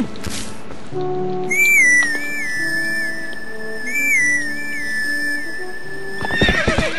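In Legend of Zelda: Twilight Princess, a whistled melody plays to call the horse Epona, followed near the end by a loud, close neigh with hoof clatter, over soft outdoor ambience.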